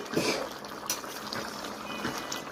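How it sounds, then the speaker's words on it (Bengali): Fish head curry with potatoes simmering in a pot, a soft steady bubbling and faint liquid hiss that carries on evenly throughout, close and fairly quiet. "এখন কিছু সময়ের জন্য ফুটতে দেব"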